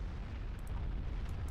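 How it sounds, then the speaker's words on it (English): An orbital bombardment in Star Wars: Empire at War rumbles as a deep, sustained explosive roar, loud and continuous with a few faint sharper pops on top. "Time for the orbital bombardment."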